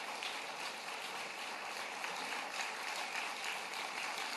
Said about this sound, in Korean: 우리 박수로 서로 축하하십시다